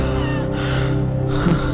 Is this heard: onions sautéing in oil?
no